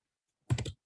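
Quiet, close typing on a computer keyboard: one short cluster of a few quick key clicks, alone with no talk.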